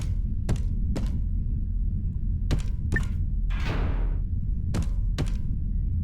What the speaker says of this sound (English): There was a sound of a door opening somewhere.